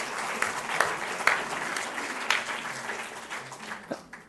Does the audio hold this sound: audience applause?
yes